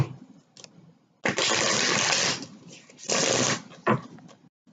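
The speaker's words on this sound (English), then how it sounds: "I'm going to shuffle" Tarot cards being shuffled during a reading, heard as two loud bursts of riffling close to the microphone separated by quieter handling and a short pause.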